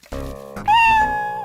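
A cat meows once near the microphone, a rising, drawn-out tonal cry after some brief rustling and softer sounds, loud and clear with no talk over it.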